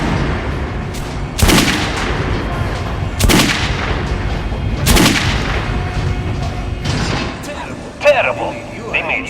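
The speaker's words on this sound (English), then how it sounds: "Try shooting for the center of the regular dummy's chest." Three heavy gunshots from a Metro: Last Light firearm ring out at a training dummy in a shooting range, evenly spaced booming reports with short echoing tails, followed by a faint metallic rattle at the end.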